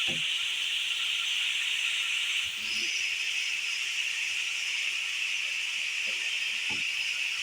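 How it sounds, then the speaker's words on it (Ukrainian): Steady sizzling hiss of onions frying in a pan, continuous and fairly loud, with a few faint clinks and soft knocks. "Смажимо цибулю до тих пір, поки вона не стане прозорою."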